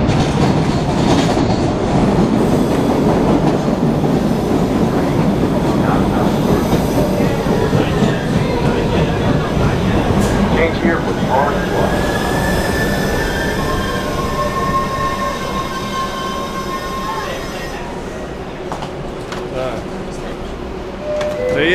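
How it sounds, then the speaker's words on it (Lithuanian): A Boston commuter train pulls into a station with a loud, continuous rumble, rattling wheels and squealing brakes that ease off toward the end, while people talk nearby. "Įlipam traukinį."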